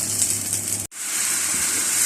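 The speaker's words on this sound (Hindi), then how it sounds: "3 गिलास 2 गिलास पानी के डालें इसमें।" Water poured into a Peshawari mutton karahi pot, a close steady gush broken by one brief gap partway through, then continuing at the same level.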